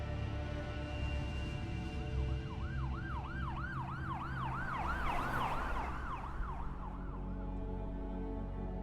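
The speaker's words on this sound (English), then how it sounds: "A few minutes later, an ambulance arrived and they would take Lauren to a local hospital" An ambulance siren wails in repeated rising and falling sweeps, swelling louder midway as if drawing close, over a steady rumble of road traffic.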